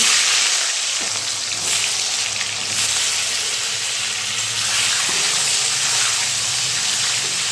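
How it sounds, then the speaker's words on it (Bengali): Potatoes rubbed with salt and turmeric fry in hot mustard oil, giving a loud, dense, unbroken sizzle close by, with faint stirring and no talk. "এখন এর মধ্যে কিছু আলু দিয়ে ভেজে নেব।"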